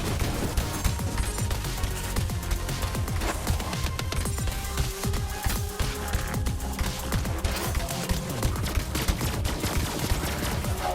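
The Recursion gun fires rapidly in the video game Borderlands 3 during heavy Mayhem 4 combat, a dense, relentless barrage of crackling shots and impacts mixed with explosive game effects.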